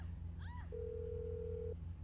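In GTA 5, a phone rings out after a number is dialed: a single steady ring tone about a second long, fairly faint over a low game background hum.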